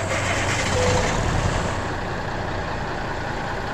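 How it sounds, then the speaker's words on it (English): A Peterbilt 389 in American Truck Simulator, fitted with Caterpillar C15 straight pipes, gives a loud, steady low engine drone, close and constant for the whole stretch. "I added in these, the Caterpillar C15 straight pipes mod, just because I was just getting so tired of that quiet SCS motor"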